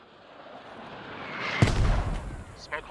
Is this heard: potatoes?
no